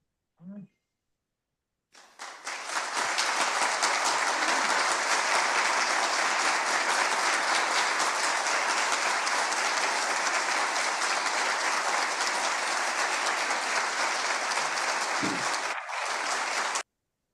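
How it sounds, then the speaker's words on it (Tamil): Sustained applause from a crowd, dense and even for about fourteen seconds before stopping abruptly, with a brief voice at the start. "இதை பாராட்டி நாங்கள் கரகோஷம் செய்கின்றோம்"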